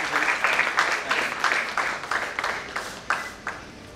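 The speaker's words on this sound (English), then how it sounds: "May we have another round of applause for them?" Audience applause for award winners at a school cryptic crossword event in Kolkata, with scattered clapping that swells in repeated waves at moderate distance and no voices over it.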